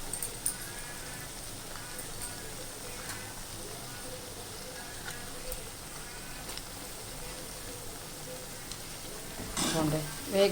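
Rice-flour snacks fry steadily in hot oil, a continuous crackling sizzle at moderate level that swells louder near the end, with no talk over it.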